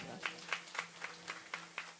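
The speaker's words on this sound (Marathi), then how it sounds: "त्यांच्यासाठी जोरदार टाळ्या वाजवा" An audience at a kirtan claps in a steady, even rhythm, about four beats per second, faint and somewhat distant over a low background hum.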